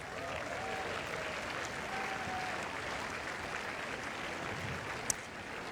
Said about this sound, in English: Please keep the applause coming for the Association of British Tennis Officials.